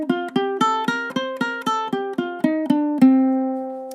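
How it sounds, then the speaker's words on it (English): Plucked ukulele notes climb and descend the Dorian scale, a minor-sounding mode, one note at a time at an even pace, ending on a held final note. "So that's your Dorian."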